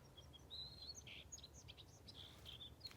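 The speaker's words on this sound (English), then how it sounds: "You hear the white throat going off." A white-throated sparrow calls among other small birds in swampy scrub, thin high whistled and chirping notes scattered over a low, steady background rumble, faint and somewhat distant.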